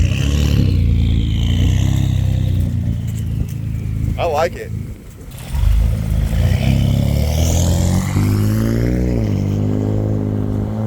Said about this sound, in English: testing different types of resonators and mufflers